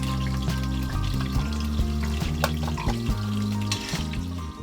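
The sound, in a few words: sage frying in hot oil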